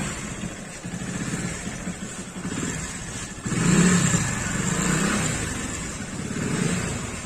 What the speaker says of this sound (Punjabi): ਮੋਟਰਸਾਈਕਲ ਦੀ ਜਦੋਂ ਵੀ ਮੋਟਰਸਾਈਕਲ ਕਿੱਕ ਮਾਰਨੀ ਹੁੰਦੀ ਇਸ ਤਰ੍ਹਾਂ ਮਾਰਨੀ ਪੈਂਦੀ ਹੈ